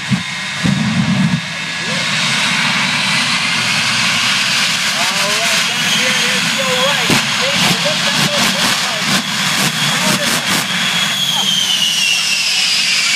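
The Shockwave jet truck warms up at the 2015 QC Air Show, a loud continuous jet roar with a rising whine, while an announcer speaks over the public address system.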